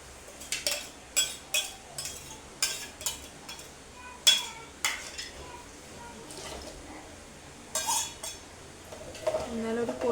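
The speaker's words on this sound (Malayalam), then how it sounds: "ലേശം വെള്ളം കൂടി ഒഴിച്ചിട്ടൊന്ന് കലക്കി വയ്ക്കുന്നുണ്ട് കേട്ടോ" Chickpea curry gets stirred in a pot after a little water goes in, with a series of sharp metallic clinks and scrapes of a spoon against the vessel, some in quick bursts, near and clear.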